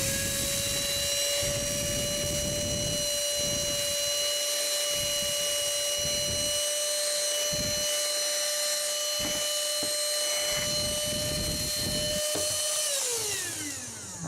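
A small Oraimo handheld vacuum hums with a steady high whine while sucking up grains of rice, which clatter through the nozzle in scattered bursts, before the motor is switched off and winds down near the end.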